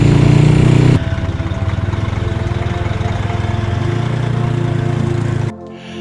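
A motorcycle engine runs near and loud, first revving higher, then chugging rhythmically at a steady pace before dropping off at the end.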